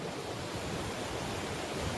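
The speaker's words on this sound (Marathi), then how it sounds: "जबरदस्त वॉटरफॉल तिकडे तिकडे वॉटरफॉल पहा तिथं पाऊस पण जोरात पडायला लागलेला आहे" Waterfall at Savatsada Falls near Chiplun, Ratnagiri, with heavy rain falling, a steady dense roar of rushing water filling the scene without pause, loud and continuous with no voices.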